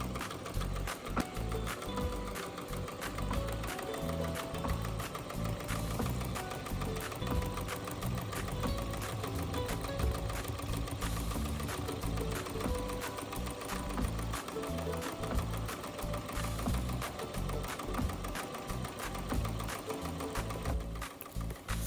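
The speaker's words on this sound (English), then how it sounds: "Now just pop it back on my machine and let it stitch the tack down stitches." An embroidery machine stitching tack-down stitches runs continuously for a long stretch: a fast, loud mechanical chatter of needle strikes and gear clatter with a steady rhythm and no talking.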